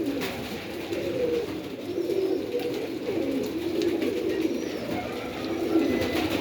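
Pigeons coo repeatedly in soft, throaty bursts, several birds close by against a light background hiss.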